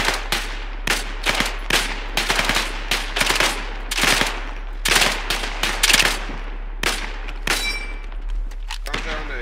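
Repeated bursts of rifle and machine-gun fire in a World War II airborne combat game, sharp cracks in quick rhythmic volleys, close and loud over a constant low hum, with voices talking in between.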